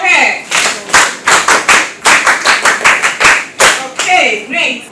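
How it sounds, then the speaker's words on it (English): Schoolchildren in a basic school classroom clap together in a quick uneven rhythm, loud and close, with a short pause midway and a voice briefly heard near the end. "Clap for her."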